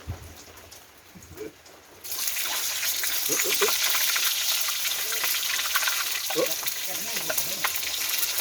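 Pork face mask goes into hot oil at about two seconds and crisps in a loud, dense, steady crackling sizzle close by, with a voice talking briefly before and under it.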